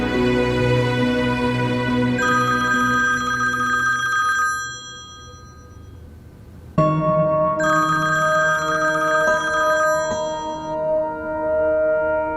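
A telephone bell rings loudly in two long bursts separated by a short pause, with a steady tonal background underneath and no voices.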